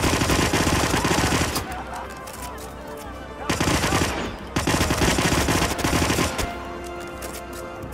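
Automatic gunfire rips out in Hitman in loud sustained bursts as enemies are mowed down, with rapid rattling volleys broken by short pauses and a voice talking over parts of it.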